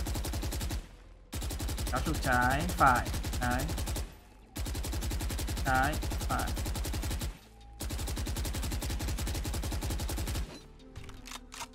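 Rapid automatic fire from the Phantom rifle in the shooter game Valorant, three long continuous sprays of gunshots separated by short pauses, loud and close, with a brief spoken instruction over the firing.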